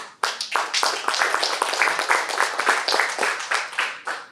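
Small audience at a Toastmasters club meeting gives a round of close, crisp hand clapping that lasts about four seconds, with individual claps clearly distinct.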